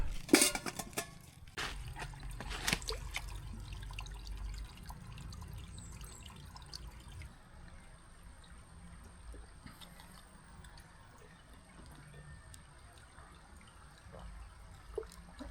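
Steady trickling and splashing water from a natural spring, running continuously at a moderate level with a few louder splashes near the start.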